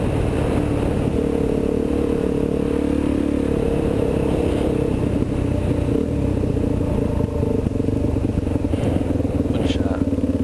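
KLX 400 dirt bike on its back wheel accelerating past, its engine droning steadily and loud under heavy wind noise, with another rider's Husqvarna 610 nearby; no one speaks.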